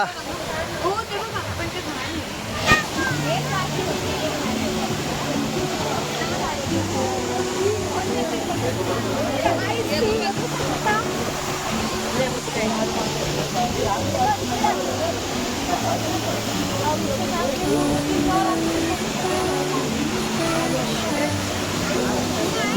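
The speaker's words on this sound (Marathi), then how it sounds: "धबधबा" A waterfall roars steadily and loudly throughout, a constant rushing wash of water with people talking faintly underneath.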